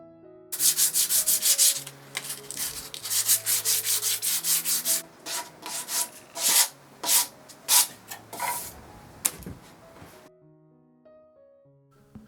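A pine dining table gets a scuff sand, heard as rhythmic, close rubbing strokes of sandpaper on wood in bursts, with pauses and a soft background hum.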